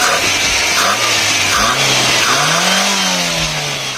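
Sixth-generation Toyota Corolla engine revving, pitch sweeping up and down in several rising and falling surges over steady road and wind noise, close and fairly loud with no talk.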